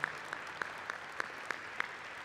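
An audience gives a round of applause at a hydrogen presentation, heard as steady, evenly spaced claps at moderate distance with no talking over them.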